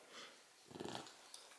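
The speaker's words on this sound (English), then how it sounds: "he just kind of sniffed" A dog sniffs close by, giving a short cluster of quick, faint snuffling breaths in a quiet room.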